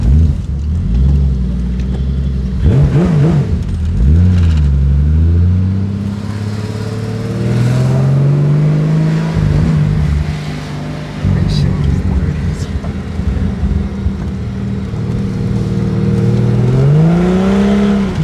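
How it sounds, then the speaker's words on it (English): A car being driven after its brakes and clutch were bled: engine note rising and falling through revs and gear changes, loud and close inside the cabin, with a person talking over it at times. "I'm about to drive the car and see if it changed anything."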